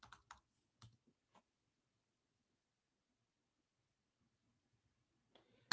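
Keys clatter on a computer keyboard in a few quick bursts of clicks while a command is entered, then the room goes quiet apart from a few faint taps and a final click.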